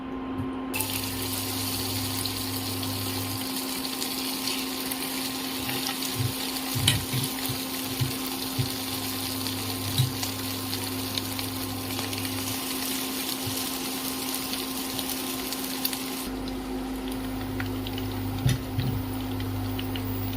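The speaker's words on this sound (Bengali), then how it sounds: "তেলটা গরম হয়ে গেছে। এরপর আমি চিকেনগুলো আস্তে আস্তে করে ছেড়ে দেবো।" Batter-coated chicken pieces for restaurant-style chili chicken sizzle in hot oil with a steady, even frying hiss and a low background hum, with no one speaking.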